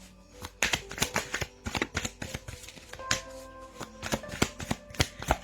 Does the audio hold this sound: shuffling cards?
yes